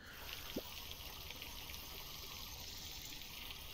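Water pouring in the VR game Cosmonious High, a steady faint trickle running throughout with a brief bright splash near the start, no voices over it.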